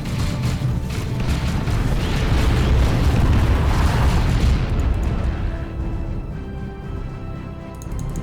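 A grenade blast in Warhammer 40K Dawn of War 2 erupts into a loud, sustained rumbling explosion that rolls on for several seconds, then tails off into lighter debris and ambient battle noise.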